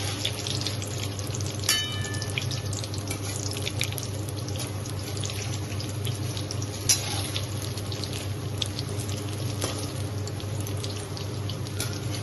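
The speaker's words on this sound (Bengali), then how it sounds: "হালকা আঁচে এটা ভাজতে হবে।" Jute leaf pakora fries on low heat, a steady soft bubbling hiss that runs unbroken with faint crackles on top.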